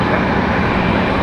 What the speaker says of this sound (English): Frontier 3313 coming in from LaGuardia. This is an A321neo.